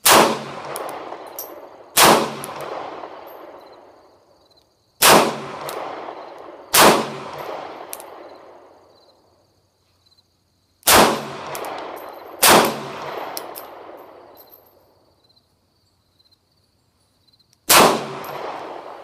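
Shots from a Taurus PT 738 TCP .380 pocket pistol, fired one-handed, sideways and upside down: seven loud, sharp reports spaced irregularly a second or several apart, each with a ringing echo that fades before the next.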